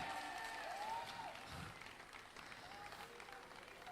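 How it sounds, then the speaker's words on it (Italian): Applause for the winners at an award ceremony of the Palio Nazionale delle Botti barrel race in Vittorio Veneto, a moderate, continuous patter of clapping from a crowd with a voice over it. "Un bel applauso ai vincitori, complimenti!"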